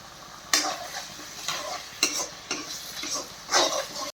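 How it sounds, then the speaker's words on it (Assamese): Tomatoes and potatoes frying together in a pan with a soft sizzle, stirred in several short scraping bursts about every half second to second. "বিলাহীটো গুড়াকৈ ভাজি ল'লোঁ আৰু লগতে আলুটো ভাজি ল'ম বিলাহীৰ লগতে"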